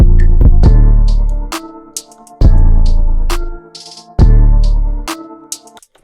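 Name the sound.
transition in the sample into the verse part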